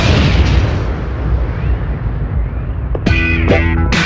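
A small bomb blasts inside a suitcase in a comedy film scene, a loud roaring explosion with a long rumbling decay, followed by a few sharp ringing bursts near the end.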